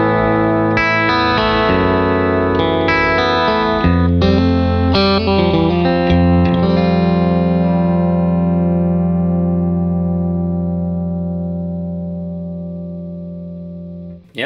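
Electric guitar played through a Barber Electronics Tone Press compressor with the brilliance off: a few clean chords and notes that ring out with long, even sustain and fade slowly, heard alone.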